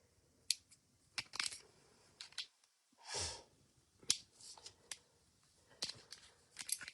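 Scissors snip through material at a craft table while making a fake-bake cake and cupcake cookie, several sharp close snips spread out over a few seconds amid quiet handling and breathing.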